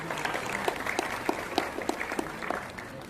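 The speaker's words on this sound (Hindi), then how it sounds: "एक बार जोरदार ताली बजाएं।" An audience at a student merit award and career guidance ceremony breaks into steady applause, with a dense patter of clapping throughout and a few sharper claps standing out.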